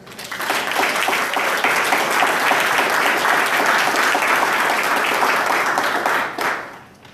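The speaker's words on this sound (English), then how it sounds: "I wanted to make sure everyone gave Kylie a round of applause for that" Attendees at a military transition council quarterly meeting break into a full round of applause, steady and close, holding for about six seconds before tapering off.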